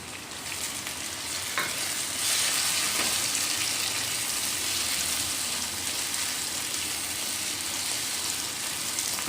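Tomatoes frying in a hot pan for Kolhapuri chicken, a steady broad sizzle throughout, swelling louder after the first two seconds as they hit the oil, with faint stirring clicks.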